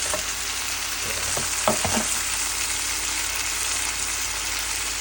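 Chopped tomatoes hit shallow-fried onions in a hot pan for a chicken kosa, giving a loud, constant hiss with a few brief stirring clatters early on and no voices.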